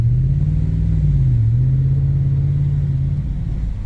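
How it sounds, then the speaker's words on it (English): A Ford 7.3 Godzilla pickup's deep, steady aftermarket exhaust rumble drones continuously, low and smooth, with a slight dip in pitch partway through as the engine settles. "nice aftermarket, a quiet, classy aftermarket exhaust"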